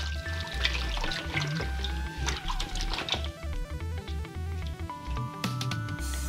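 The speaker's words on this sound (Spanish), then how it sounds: "Agregamos un poco de agua y la sal." Water is poured with salt over raw chicken pieces being washed in a kitchen, a steady liquid pour running beneath continuous background music.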